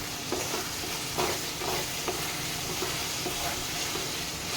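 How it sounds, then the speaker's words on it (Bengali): Goat fat pieces stir-fried over raised heat in a pan for khichuri, a steady close sizzle with repeated scraping strokes of the stirring spoon, no voices. "এবার আমি আঁচটা বাড়িয়ে একটুখানি কষিয়ে দেবো।"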